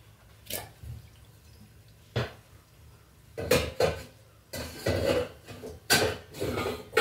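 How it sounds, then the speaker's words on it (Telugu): A lid goes onto a pot of eggplant and chukkakura curry with a few close metallic clanks and knocks, some isolated and then a denser cluster of rattling contacts, alone without talk. "కొంచెం సేపు మూత పెడదామండి."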